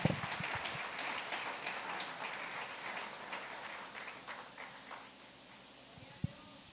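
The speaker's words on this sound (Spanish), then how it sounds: "Ahora dale un aplauso al Señor." A church congregation claps together, a dense wash of applause that is loudest at the start and gradually thins out, ending with a single sharp knock.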